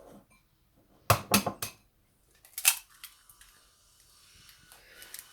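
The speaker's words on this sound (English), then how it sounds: "First I crack 2 eggs." Two eggs cracked into a cooking pot, each crack a quick sharp click-and-tap burst in a row near the mic, followed by a lighter shell tap and a faint ongoing hum in a quiet kitchen.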